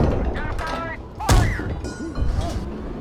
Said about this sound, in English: Look at that turret pop.